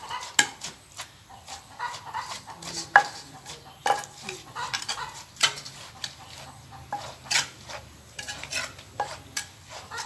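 Pickled snail papaya salad being pounded in a mortar: irregular sharp knocks and clatters of the pestle, some louder than others, scattered across the clip, close by, with faint background noise and no talk.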